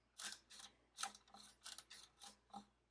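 Monroe SS 160 mechanical calculator, a little stiff, being cranked in short jerky turns to multiply 25 by 25, giving a series of about eight distinct clicking, ratcheting bursts at a fairly even rhythm, faint and close with no talk.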